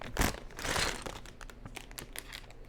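Plastic Lego packaging bags crinkled up close, with a couple of loud rustling bursts at the start followed by quicker, lighter crackling and rustling that goes on without a pause.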